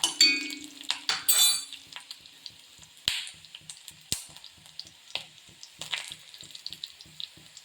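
Dried red chillies crackling and sizzling in hot oil for a mushroom masala, with sharp popping clinks and a steady hiss, plus a few metallic taps of a utensil against the pan.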